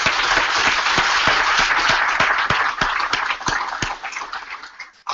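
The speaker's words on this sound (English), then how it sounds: "Let's just give a big round of applause." Audience at a talk on creating an impactful company breaks into steady, full applause with sharp individual claps, loud and sustained before tapering off at the end.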